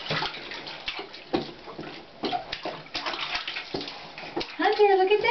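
A small child splashing water in a bath, with repeated sloshing slaps and tap-like gurgles over continuous watery noise, close by, mixed with an adult's voice talking.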